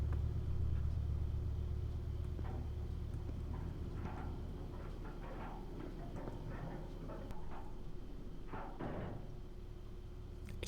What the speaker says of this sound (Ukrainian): ще одна машина.